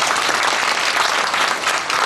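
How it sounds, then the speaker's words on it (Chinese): Dense, even applause from a banquet crowd at a community association forum fills the whole stretch, loud and continuous with no voices on top. "大家俾掌声"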